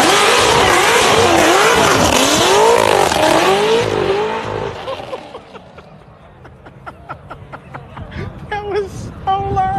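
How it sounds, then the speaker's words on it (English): A Corvette ZR1 launches hard out of a Texas Cars and Coffee meet, its engine roaring loud and close with rising revs as it pulls away, fading into a crowd's chatter and distant car noise. "Let's watch the ZR1 leave."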